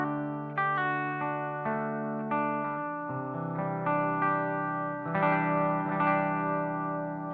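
An electric guitar played through a Klon-style overdrive pedal, with gain and treble turned up, gives sustained, slightly gritty chords and single notes that ring clearly alone, each picked attack decaying smoothly.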